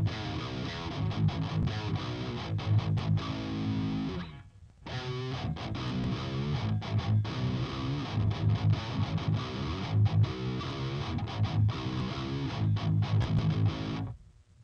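An electric guitar runs through a Nebula amp simulator and cabinet, with gritty, distorted chords played in dense rhythmic phrases, broken by one brief gap partway through, loud and up close.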